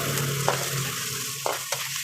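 Tomatoes and onions cooking in a pan for adobong sitaw make a steady close sizzle under a low hum, broken by a few brief stirring scrapes, with no talking.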